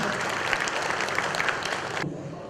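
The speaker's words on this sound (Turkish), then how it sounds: "evet alkışlayalım" An audience at a community gathering of people from Horasan claps steadily and moderately loud, and the applause cuts off abruptly near the end.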